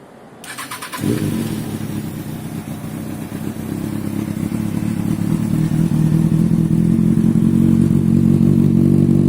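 A 2005 Kawasaki ZX6R 636 motorcycle with a Scorpion exhaust cranks briefly, catches, and settles into a loud, steady idle that runs throughout.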